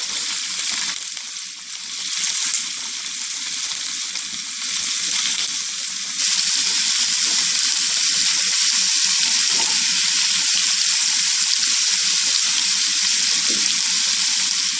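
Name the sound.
onions frying and being stirred in hot oil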